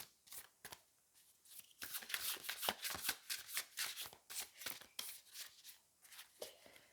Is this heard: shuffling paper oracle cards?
yes